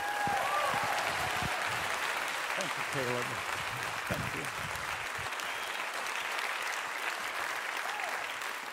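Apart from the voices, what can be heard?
audience applause welcoming the pastor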